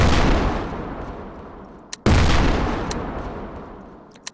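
Armor-piercing weapon firing in Garry's Mod ACF video game, two heavy booming shots about two seconds apart, each trailing off in a long rumbling decay, loud and close.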